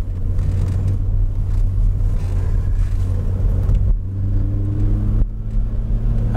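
Car engine droning and revving under load through an elk test lane change, a constant close rumble with a couple of abrupt shifts in pitch and tone.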